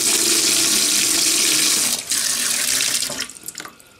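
Water gushes steadily from a newly fitted kitchen tap into the sink, loud and close, then eases off and sputters with small splashes as the flow is cut.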